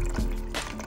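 Homemade apple cider vinegar being strained through a cloth filter, a short burst of liquid pouring and trickling, close and fairly clear.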